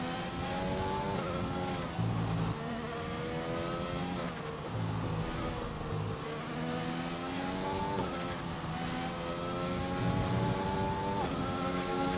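Race cars in a sim racing game on a Japan circuit lap through turns 1 and 2 and the hairpin, engines droning and shifting pitch continuously, several cars on track at once, steady and fairly loud with no talk.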